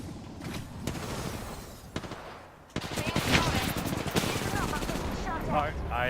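Rapid bursts of incoming gunfire striking the player in a first-person shooter game, loud sharp cracks and rattling impacts clustered through the clip, with a voice talking over the action.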